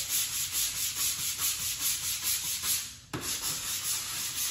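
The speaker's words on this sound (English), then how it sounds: "Let's give this a try. Give it a scrub." A brush scrubs a garage floor coated with Purple Power cleaner, making a rhythmic back-and-forth rasping rub that repeats steadily, close and fairly loud, with a brief pause near the end before the strokes resume.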